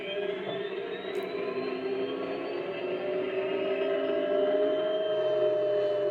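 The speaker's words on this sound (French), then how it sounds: "Là, on est sur une turbine. On n'est plus sur un diesel." Heng Long Abrams RC tank's turbine sound effect, a steady high whine with layered tonal hum that rises slightly in pitch and grows a bit louder over several seconds, heard alone without talk.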